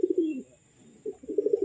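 A male crested pigeon cooing up close, two bursts of throaty, rolling low coos separated by a brief pause, loud and clear with a steady high hiss behind.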